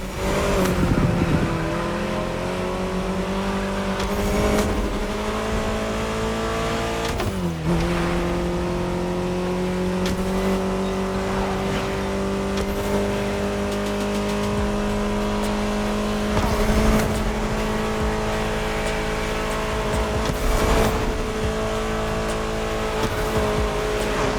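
Racing-game Ferrari engine from The Crew Motorfest, a steady sustained drone holding a near-constant pitch for the whole stretch, with one brief dip and recovery partway through, loud and continuous with no talk.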